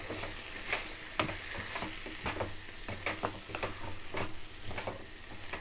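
Chicken curry with chili powder being stirred in a pan, a faint, continuous sizzle broken by soft irregular scraping and clinking strokes of the spoon, close and fairly quiet.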